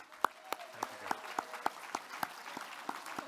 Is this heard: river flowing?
no